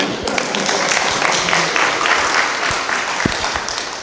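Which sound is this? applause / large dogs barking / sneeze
applause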